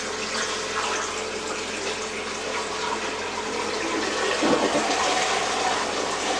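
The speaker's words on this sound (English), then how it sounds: "so we've flushed the toilet" A freshly reinstalled toilet flushes close by, water rushing and swirling steadily and swelling slightly louder toward the end of the flush.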